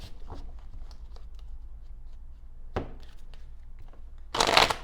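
Tarot cards are shuffled in a few quick riffles, soft flicks and snaps with a louder burst of shuffling near the end, close up and quiet.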